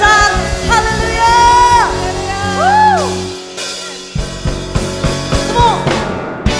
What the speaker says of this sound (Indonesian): berikan sorak-sorai bagi Allah kita yang besar